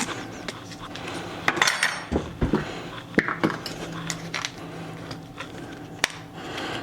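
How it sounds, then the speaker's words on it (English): In a kitchen while cooking skillet lemon chicken, a knife is picked up amid clattering cutlery and pans, with several sharp metallic clinks and knocks at irregular intervals, close and fairly loud, no speech. "grab a knife"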